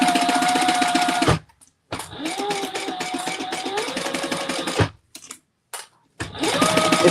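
A sewing machine basting fabric in place with an eighth-inch seam, whirring in loud rapid bursts of stitching separated by short pauses and a few brief silences.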